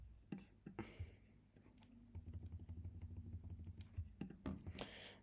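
Computer keyboard arrow keys are pressed close by, in scattered clicks and then a quicker run of taps over a low steady hum.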